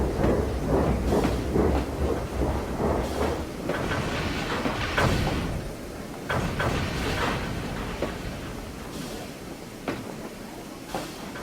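A train rumbles along the rails with rhythmic clickety-clack beats, loud and close at first, then easing slightly as it runs on steadily.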